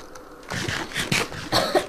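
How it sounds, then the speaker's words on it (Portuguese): A person coughs several times in quick succession, close and fairly loud, with short rough bursts and brief gaps between them. "Tô com uma tosse."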